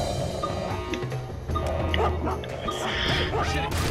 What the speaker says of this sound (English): The dog's right there.